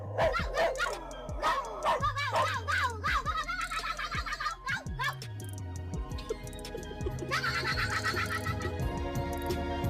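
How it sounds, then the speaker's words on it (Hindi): A dog barks loudly in short bursts at someone, mixed with whinny-like yelps and background music, the barking close and repeated through the first half before fading into busier sound. "ये डॉग इन्हें देखकर बड़े ही जोरों से भौंकने लगता है"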